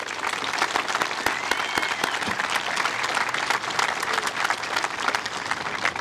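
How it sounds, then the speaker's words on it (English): Sustained, dense applause from a large audience at a Class of 2022 culmination ceremony, honouring the school's teachers and staff, with crisp individual claps standing out throughout. "so can we please give them another round of applause?"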